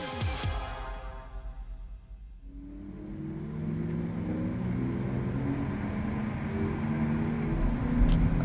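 A 2022 Porsche Taycan GTS Sport Turismo drives on a road near Los Angeles, giving off a steady rising electric whine and tire-and-road roar, close and continuous, after a brief earlier sound.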